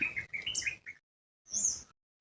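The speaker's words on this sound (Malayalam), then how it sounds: "പക്ഷെ പക്ഷികളുടെ ശബ്ദം കേൾക്കാം." Birds call from a bamboo thicket below a rock formation at Mayiladum Para, Puduruthy, two bursts of close, clear chirping and whistled notes separated by a short silence.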